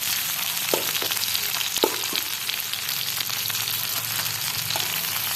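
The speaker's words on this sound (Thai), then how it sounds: "เราก็จะทำการผัด" Green water spinach with shrimp sizzles steadily as it is stir-fried in a pan, a continuous close crackling frying hiss broken by a few soft stirring scrapes, with no voices.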